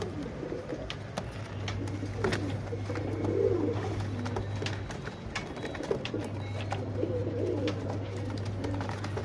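Patta pigeons of an old, top-quality lineage coo in a steady low warbling murmur that carries on throughout, with a constant low hum running underneath.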